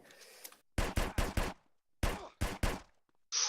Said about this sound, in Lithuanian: šaudo dar kažkas